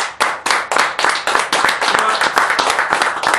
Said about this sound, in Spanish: quiero pedir un aplauso para los cuatro